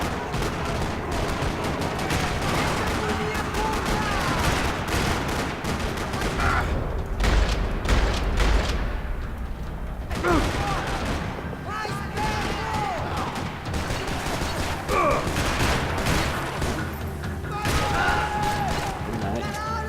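Video-game gunfire erupts across a parking lot in Max Payne 3, rapid bursts of automatic and single shots with crashes and booms, loud and continuous throughout, with voices shouting amid the firefight.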